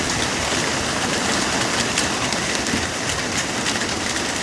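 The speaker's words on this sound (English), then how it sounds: "Now we got torrential downpour." Heavy, relentless rain pouring down, a dense, even roar of water hitting surfaces with no breaks, loud and close.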